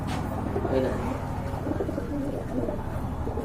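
Domestic pigeons at a wholesale pigeon market coo softly and repeatedly, close by, over a steady background murmur with people talking nearby.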